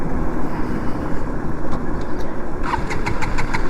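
KTM Duke 200 motorcycle engine struggling to start, a rough low mechanical churning that stays constant and close, with faint rhythmic ticking near the end.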